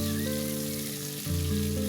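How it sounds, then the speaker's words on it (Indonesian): Tomatoes fry in hot oil in a pan, giving a steady close sizzle under sustained tonal background sounds, without speech. "Untuk tomat tidak perlu kita goreng dengan matang ya teman-teman"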